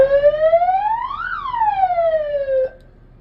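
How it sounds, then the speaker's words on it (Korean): A single electronic motor siren on a vehicle wails, rising to a peak and falling back, loud and close, then cuts off abruptly. "이 경광등 사이렌 스위치를 누르게 되면 경광등이랑 사이렌이 같이"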